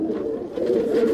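Pigeons coo at a loft in Vikroli, Mumbai, a low, soft, rolling coo held close and steady, with no other sounds competing.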